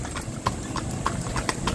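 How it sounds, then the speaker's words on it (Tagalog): A horse pulls a kalesa carriage through old Manila, its hooves clip-clopping in a steady trotting rhythm at moderate distance over a constant street-noise background. "Dito pag tumatakbo yung kabayo"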